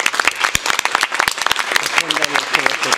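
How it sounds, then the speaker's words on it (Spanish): A smaller group at a political press conference claps in distinct, separate hand strikes, a loose, uneven patter of applause with a voice speaking over it partway through. "Hay que darles un aplauso y sí lo pediría en este momento."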